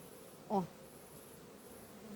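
Honey bees at a hive during an autumn inspection hum faintly, with one brief, louder buzz as a bee passes close, then a thin steady drone continues.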